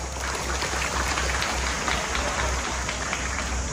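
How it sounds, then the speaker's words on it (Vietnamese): A school opening ceremony crowd at Nguyen Tran High School in Binh Dinh gives a sustained, dense round of applause that stays steady and fairly loud throughout, with no talking. "đề nghị chúng ta cho một tràng pháo tay"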